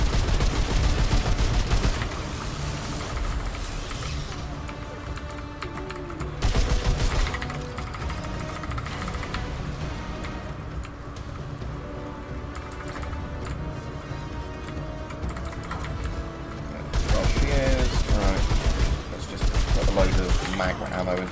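Gunfire in the video game Remnant 2, dense rapid shots sustained through the whole stretch under a thick game soundtrack, with louder bursts near the start and end.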